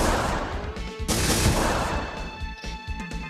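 Rapid gunfire in the video game Case Closed The Mirapolis Investigation, a loud dense burst of shots followed by scattered sharper cracks, with no talking.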